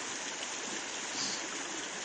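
A river rushes steadily at the confluence of the Bolshoy Ulymakh and Umelzhak in Aldan, Yakutia, a dense, continuous broadband flow heard up close without voices.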